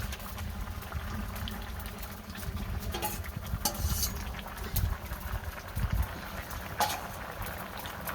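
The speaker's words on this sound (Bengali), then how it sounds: "তরকারিতে বলক এসে পড়ছে" Curry bubbling at a rolling boil in a cooking pot with fish pieces added, a steady close simmering patter with occasional louder splutters and stirring, no talking.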